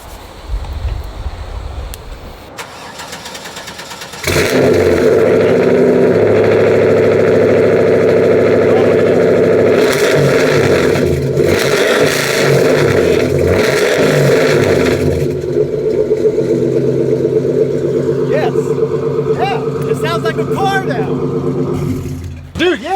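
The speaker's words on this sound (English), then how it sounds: "It sounds like a Camaro, like a Corvette" A Volvo with a new exhaust starts with a sudden roar, then holds a loud, deep, rumbling idle with rises in revs, close by, over quiet background noise.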